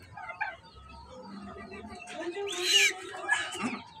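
Pet birds indoors giving a run of chirps and squeaky calls that grow busier and louder toward the end, close by.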